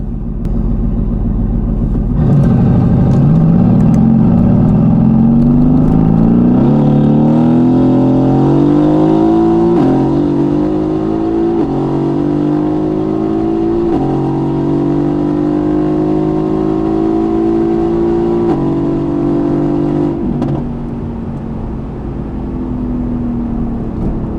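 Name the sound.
Mercedes AMG GT launching at a drag race, wheelspin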